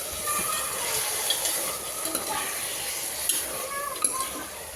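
Cooked mutton being stirred and sautéed in a pan for mutton pulao biryani, with soft sizzling under scraping spoon strokes and occasional light clinks of metal on the pan.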